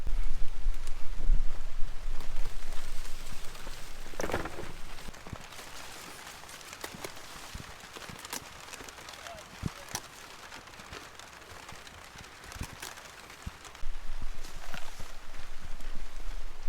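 Steady rain patters on surfaces nearby on a vegetable farm during pepper harvesting, with scattered sharper drips and knocks, and a brief louder rustle at times; no one speaks.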